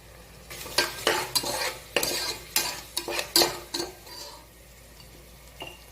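Ground masala goes in with sautéed onion and tomato and is stirred in a pan, giving a run of quick, distinct scraping strokes over a faint sizzle before it quiets down.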